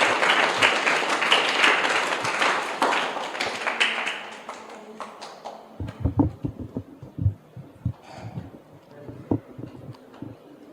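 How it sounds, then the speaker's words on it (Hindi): An audience welcomes a speaker at a village chaupal gathering in Dadauta, Palwal, with loud applause for several seconds. The clapping then thins into scattered, irregular claps and thumps. "जोरदार तालियों के साथ स्वागत"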